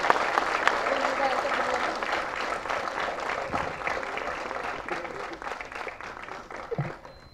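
An audience at a film press meet claps in a sustained burst of applause that starts strong and slowly tapers off, nearby and clear.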